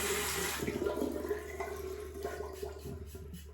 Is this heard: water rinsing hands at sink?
yes